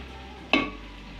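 Hot water pours into a pot of simmering beef bones, setting off a sudden loud hiss and sizzle that quickly settles into a quieter bubbling.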